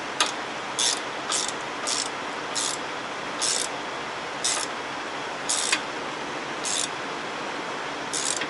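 Socket wrench ratcheting during a greaseless fifth wheel slickplate install on a truck, a series of short irregular clicking bursts over a steady hiss, close and fairly quiet.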